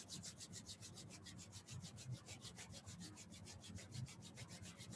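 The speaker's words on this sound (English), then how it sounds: "Let's rub the palms together." Palms rub briskly together close by in a quiet room, a soft rhythmic swishing of about five strokes per second, faint but steady throughout.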